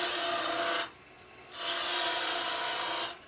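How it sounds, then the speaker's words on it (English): Skew chisel cutting a deep V groove into timber spinning on a wood lathe, heard as two close, loud rasping scrapes separated by a short pause, with no talking. "Nice deep skew, nice deep V cut here."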